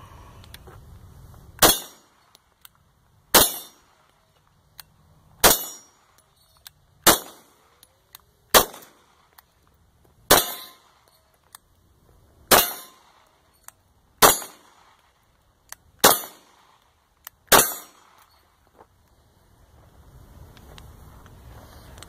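FNX 45 pistol firing Tula steel case ammo outdoors, about ten loud sharp reports spaced one to two seconds apart, each with a short ringing tail, small clicks between shots.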